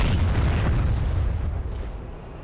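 Maverick missile detonation in the DCS F-16 flight sim, a heavy, rumbling boom that rolls on for a couple of seconds and slowly fades, loud and heard alone without talk.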